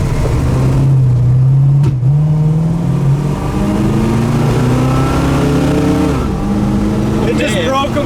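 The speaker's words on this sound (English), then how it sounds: "Broke the tires loose." A custom 1956 Ford Victoria with a three-speed transmission revs and accelerates hard, its engine note climbing steadily and loud and close, with the tires breaking loose under throttle, continuous for the whole stretch.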